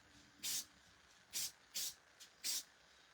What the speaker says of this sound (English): I'm just going to give this a spray and a spritz